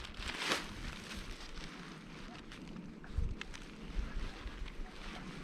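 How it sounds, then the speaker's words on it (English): Steady wind rushes and buffets around a ram-air power kite flown on a handle with a safety leash, with broadband gusty noise and a stronger gust early on; the breeze stays light and there is no talking. "there's a tiny bit of wind"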